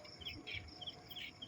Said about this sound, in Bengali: ঝিঝি পোকার ডাক দেখছ